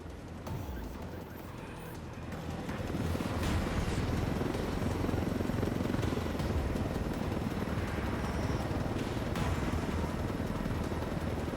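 A helicopter flying in the video game Ghost Recon Wildlands: a steady, dense rotor and engine roar that swells after the first couple of seconds and holds loud and continuous throughout.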